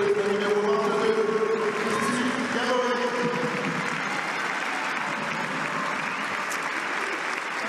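A crowd at Stade Océane applauds warmly throughout a women's first-division football match between Le Havre and Paris Saint-Germain, with a commentator's voice heard over the clapping at first.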